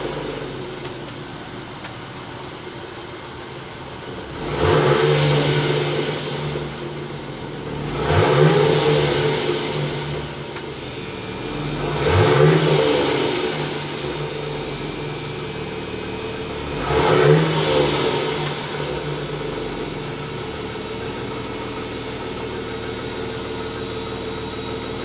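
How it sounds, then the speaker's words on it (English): A 2023 Jeep Grand Cherokee L Summit's 3.6-liter V6 idles steadily and is revved four times, each rev swelling and falling back, with a deep exhaust note close by and no talk. "We need to start it up so we could hear that exhaust note."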